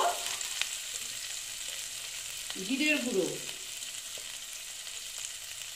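Onion frying in a pan, a continuous soft sizzle with occasional stirring, and someone speaks once midway over the cooking noise.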